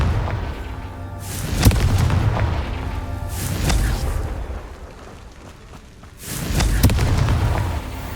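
A Confringo blasting spell detonates in Hogwarts Legacy, with three heavy booming explosions spaced a couple of seconds apart, each a broad burst with a rumbling tail, set against a steady low game backdrop.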